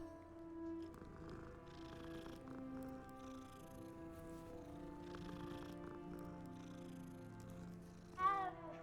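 A cat purrs steadily with a soft meow in Hogwarts Legacy, faint beneath continuous game music and ambience, with a brief sharper cry near the end.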